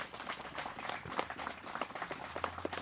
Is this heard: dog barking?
no